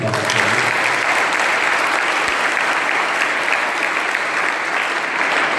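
An audience applauding to welcome a guest at a school gathering, dense sustained clapping filling the room at a steady level.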